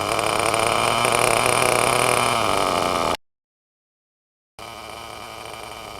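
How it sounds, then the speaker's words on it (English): A carburetted engine idles steadily and loudly while its mixture is being tuned, with a smooth continuous drone that cuts out abruptly for over a second before resuming at a similar level. "pinch and hold the fuel line just before the carburetor and listen for a change in engine RPM"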